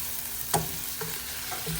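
Chicken liver with chili paste sautéing in a pan, a steady close sizzle broken by one sharp utensil knock and a few soft stirring scrapes, no voices.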